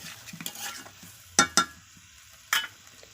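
Meat and fried potatoes sizzle quietly in a pan over a wood fire while a utensil stirs, with three sharp scraping knocks of metal against the pan standing out, close and unaccompanied by speech.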